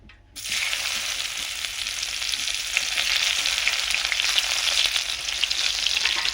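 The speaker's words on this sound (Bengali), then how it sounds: "পেঁয়াজ কুচিগুলো ভালো করে ভেজে নেব" Chopped onions dropped into hot oil after frying fish, a sudden loud sizzle that starts sharply and keeps crackling steadily, growing slightly stronger.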